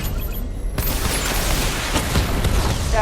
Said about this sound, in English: Missile barrage level 2 ready.